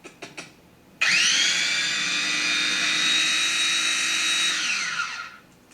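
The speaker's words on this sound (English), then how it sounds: "And now to grind it again with some icing sugar." Food processor grinding almonds with icing sugar for French macarons: a few faint clicks, then the motor snaps on loud and whines steadily for about four seconds before spinning down.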